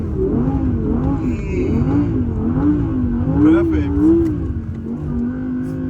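An Audi driven on a snow-covered road revs and accelerates, its engine note rising and falling in a wavering drone close by, with a person talking over it.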